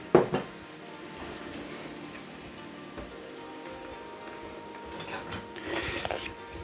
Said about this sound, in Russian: И вот этот вот чеснок обжариваем на небольшой температуре до коричневого красивого цвета